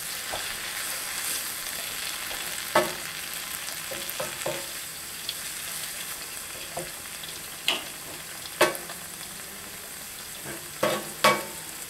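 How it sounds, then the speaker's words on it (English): Breadcrumb stuffing simmering in a pan. A soft, steady bubbling hiss runs throughout, broken by several sharp clicks and taps from stirring. "Going to let it simmer for a couple of minutes and let those breadcrumbs soften up"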